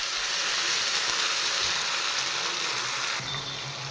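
Pumpkin leaves fry lightly in hot oil with a pinch of black cumin, a steady close sizzle and hiss running throughout, with a slight drop in level near the end.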